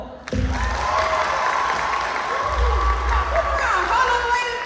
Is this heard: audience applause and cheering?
yes